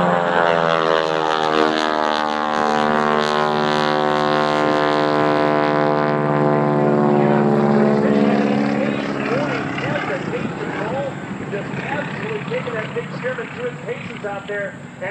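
A Stearman biplane flying aerobatics roars overhead, its radial engine and propeller droning loudly with a rising and falling pitch as it climbs and passes, then fading slightly.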